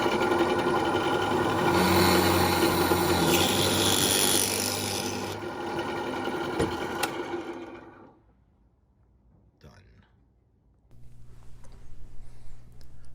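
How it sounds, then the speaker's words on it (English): A power drill boring holes during a rental-property tenant turnover repair, a loud close whining grind lasting several seconds that winds down, followed by a quiet gap and faint low background noise. "so let's drill 2 holes"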